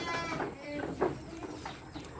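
Goats on a Thai goat farm bleat several times in short wavering calls, fairly close, over a low background murmur of the pen.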